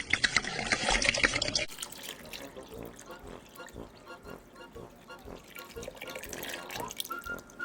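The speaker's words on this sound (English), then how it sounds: "what you're going to do is add the clamato. 2 shots of vodka" Clamato and vodka being poured into shrimp ceviche with chopped vegetables, a short splashy pour followed by liquid sloshing and wet clinks in a bowl, close and moderately loud.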